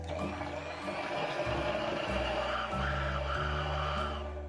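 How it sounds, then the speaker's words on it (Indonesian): A kitchen blender whirs through peanut brittle batter made with an egg, its motor pitch stepping down and up in several bursts, close and fairly quiet, with no talking. "Kembali kita blender."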